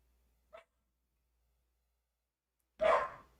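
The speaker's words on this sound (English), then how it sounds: "we got a little max bark there" A dog named Max gives two short barks in an otherwise silent room: a faint, quick yip, then after a pause a louder, fuller bark.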